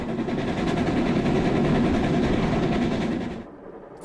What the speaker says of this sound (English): get the two locomotives working in rhythm and begin the ascent